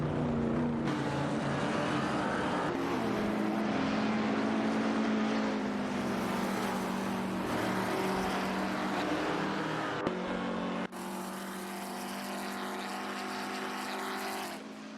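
Race car engines in an AI racing video game drone and whine continuously at high pitch, one car's tone shifting as it revs, with an abrupt cut partway through to a different, slightly quieter engine sound; no talking.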